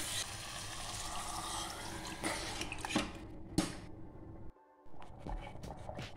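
Water is poured from a vessel into a cooker pan of sautéed pepper mutton: a close, splashing, gurgling stream that runs for a few seconds, breaks off briefly, then resumes with scattered splashes.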